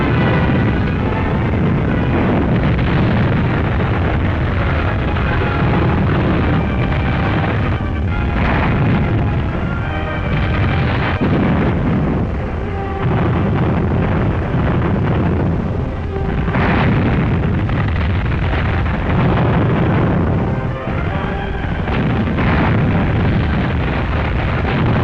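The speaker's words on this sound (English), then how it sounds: "Super heavy guns support the attack by laying down a terrible barrage around our beachheads" A barrage from 240mm super heavy guns firing 360-pound shells in wartime, heard as dense, continuous rumbling booms and blasts overlapping in a loud, heavy wall of sound with no speech.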